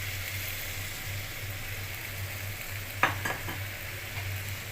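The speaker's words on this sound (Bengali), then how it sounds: "এই পর্যায়ে দিয়ে দিব ফুলকপি আর আলু ভেজে রেখেছিলাম" Fried cauliflower and potatoes stirred into a well-cooked sizzling spice paste for a tengra fish curry, a soft steady sizzle with a couple of scraping stirs midway, close and fairly quiet, no talking.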